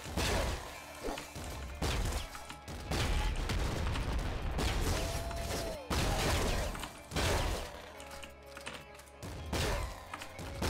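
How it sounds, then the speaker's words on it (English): Flak cannon fire in the video game Nuclear Throne comes in dense bursts of booming blasts and scattered crackling impacts, loud and close, with brief pauses between volleys. "Looks like we're going for this with flak cannon only for now"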